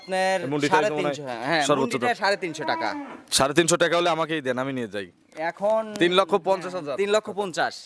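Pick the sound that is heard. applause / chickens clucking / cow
cow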